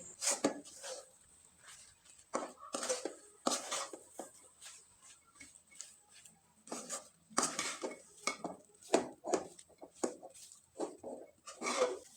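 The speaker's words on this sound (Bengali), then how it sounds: "এবার একটা চামচের সাহায্যে খুব ভালোভাবে নেড়ে চেড়ে একটা ডো তৈরি করে নিতে হবে" A metal spoon works soft, warm pitha dough in a pot, giving irregular clinks and scraping knocks against the vessel in uneven bursts with short pauses, close and fairly quiet.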